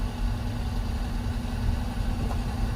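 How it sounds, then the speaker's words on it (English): A heavy-duty truck engine idles in a steady, low rumbling drone with a constant hum. It runs alone at moderate loudness, with no speech. "as you listen to the noise in the background, you'll actually hear the engine"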